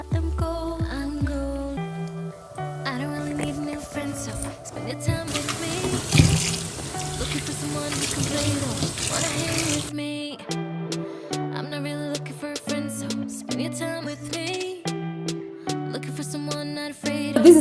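Tap water running steadily while conditioner is rinsed out of a hair closure, a few seconds of splashing under louder background music.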